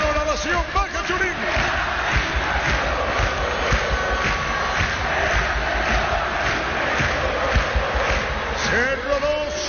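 A football stadium crowd roars in ovation during a Cerro Porteño match as a player is substituted, producing a broad, sustained roar with chants and cheers while a commentator talks over it.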